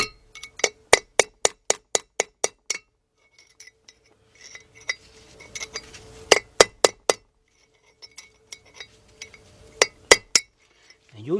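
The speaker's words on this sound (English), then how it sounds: "It'd be nice if you can use a nice long chisel so that thing won't hit up your fingers" A long chisel hammered against a front wheel bearing race on a 1996 Ford F150 pickup, sharp metallic clinks in quick rhythmic bursts of several strikes, separated by pauses, close and loud.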